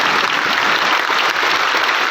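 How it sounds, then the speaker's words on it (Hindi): A crowd of listeners claps in celebration of passing, a loud, dense and continuous wall of applause that stays even from start to finish with no talking. "ताली बजाओ"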